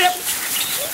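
A ratting dog working among hay bales lets out a brief whimpering yelp, close and loud, while someone speaks over it.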